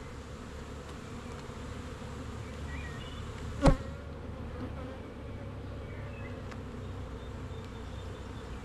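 Honeybees buzz in a steady, low drone around a growing hive of stacked boxes, with one brief louder buzz as a bee passes close to the listener.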